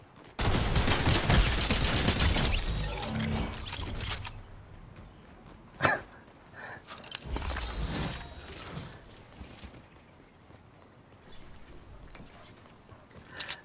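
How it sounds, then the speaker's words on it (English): Gunfire in a Fortnite match, a dense burst of rapid automatic shots up close, then scattered single shots and mechanical clatter fading into quieter game ambience. "We do have shots over here."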